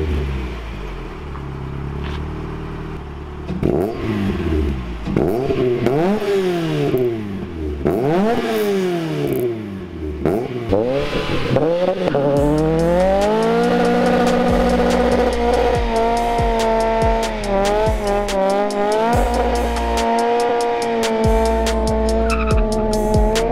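A 1989 Mazda MX-5, originally a 1.6 automatic, drives hard with loud, close engine revving that climbs and falls through repeated gear changes, tires squealing at times, and a steady high engine drone later in the run.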